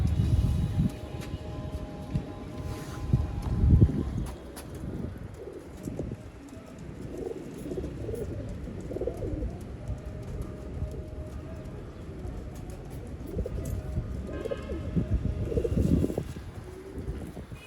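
Golden pigeons of the Mian Nazir bloodline coo steadily on a rooftop, a soft continuous murmur of overlapping calls close by, with light wind and occasional chirps mixed in.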